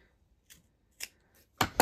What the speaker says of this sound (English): I'm going to trim my seam allowance as well here while I do this